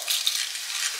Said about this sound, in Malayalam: എണ്ണ ചൂടായതിന് ശേഷം നമുക്ക് ഇതിനകത്തേക്ക് കടുക് ഇട്ട് കൊടുക്കാം